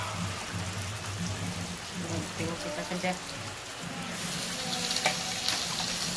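Beef sautéing in a hot pan, giving a steady crackling sizzle that grows brighter and louder toward the end, with music playing quietly beneath it.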